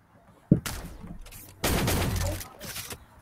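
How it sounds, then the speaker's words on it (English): Bursts of gunfire from the egg-shooter game Shell Shockers: a short volley near the start, then a longer sustained rattle of shots, loud and close. "I just shot random bullets"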